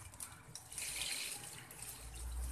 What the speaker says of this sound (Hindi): अच्छा, अब ये गुड़ वाला जो पानी है हम ये डाल देंगे इसमें।